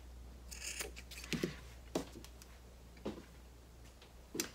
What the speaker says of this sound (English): now you can trim the excess zipper tabs